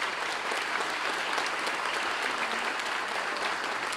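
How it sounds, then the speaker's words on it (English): Audience applause at a public safety awards ceremony fills the whole four seconds, a steady, dense patter of many hands clapping at even loudness with no voices over it. "Give her a round of applause."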